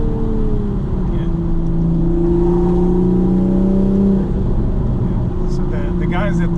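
A Toyota GR Supra with a B58 engine and modified intake accelerates around corners, a loud steady drone heard from inside the car with the engine note sweeping in pitch.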